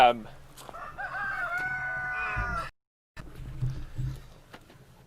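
A rooster crows loudly in a drawn-out, rising call on a farm, with chickens clucking around it. After a brief pause the flock carries on with low clucks and scratching.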